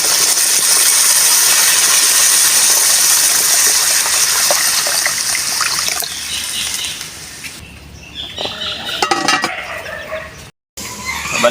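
Water is poured into a pot of dinuguan, a pork offal and blood stew cooked with squash, after the meat has been sautéed with pepper; a loud, steady gushing splash fills the first several seconds, then tapers into quieter stirring and clatter.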